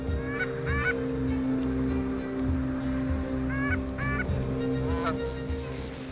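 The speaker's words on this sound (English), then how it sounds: "I was having so much fun watching these geese fly over us and all that noise." White-fronted geese honk in short clustered calls as a flock flies overhead, the cries bursting out in separate groups over a steady low background hum.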